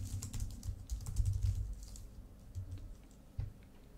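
Quick, uneven bursts of keystrokes on a computer keyboard, fairly close and soft, with brief pauses between runs of typing.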